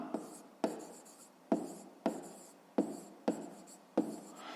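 A pen writes an answer on paper during a fifth-grade maths exercise, giving short scratching strokes in a series of about eight quick, close, fairly quiet bursts.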